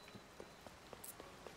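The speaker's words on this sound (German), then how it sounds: "Ach, es regnet. Ist ja mal was ganz Neues." Rain falling in the video game Zelda: Tears of the Kingdom, a soft steady patter of scattered droplets over a low, faint hiss, with no talking.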